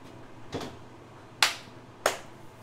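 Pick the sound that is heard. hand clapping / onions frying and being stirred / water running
hand clapping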